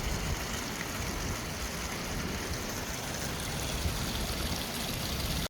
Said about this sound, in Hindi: ये है जी तत्ता पानी, जिसको कहते हैं जी पहाड़ से गर्म पानी आता है